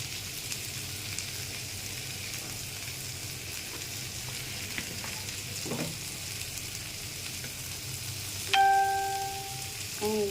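Pumpkin and onion fry in a pan with a soft, steady sizzle throughout, joined by brief stirring scrapes and a short ringing tone near the end.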